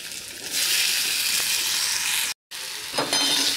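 Onion and tomato sauté with asafoetida in a hot pan for masala dosa filling. A loud, steady sizzle runs throughout, with a brief break partway and stirring scrapes near the end.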